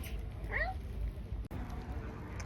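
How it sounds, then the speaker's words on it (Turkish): A street cat gives a single short meow partway through, faint against steady outdoor city background noise, with no speech over it. "Kedi gördük."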